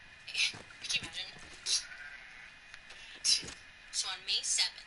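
Sheep bleating in short wavering calls, several in a row at moderate distance, with people talking over them.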